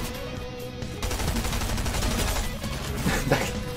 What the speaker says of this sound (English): There was shooting to our west, southwest.